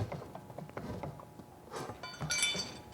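Hand shears bite through sheet metal for a motorcycle fuel tank, giving a run of short, close clicks and snips followed by a brighter metallic rasp toward the end.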